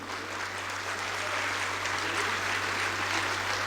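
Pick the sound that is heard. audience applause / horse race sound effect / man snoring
audience applause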